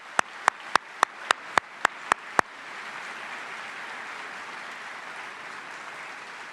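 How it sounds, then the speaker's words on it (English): A few sharp, evenly spaced claps from one nearby person ring out first, then broad, sustained audience applause swells and carries on at a moderate level at an Army retirement ceremony honoring soldiers' families. "Please join me in a round of applause for the families of our retiring soldiers."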